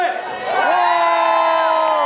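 Concert crowd at the Poetto Fest in Cagliari letting out a loud, sustained collective scream on a count of three, a dense wall of voices holding steady to the end.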